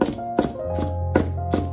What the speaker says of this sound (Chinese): 大蒜全部压好之后改刀把它剁成蒜末